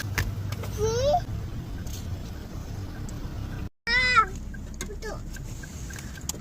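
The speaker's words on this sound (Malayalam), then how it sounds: "പൂച്ചേന്റെ സൗണ്ട് കേട്ട് പേടിച്ചോടി" A cat meows twice, the second call a quick, rising-and-falling series of cries, with hens clucking softly in the background and a brief cut of silence.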